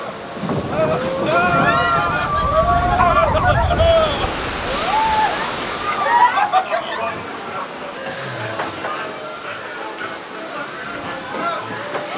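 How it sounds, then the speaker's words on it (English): Rushing water roars near the first waterfall on the Pirates of the Caribbean boat ride at Disneyland, a loud steady wash mixed with wind and boat noise while people talk and call out over it. "Here comes the first waterfall!"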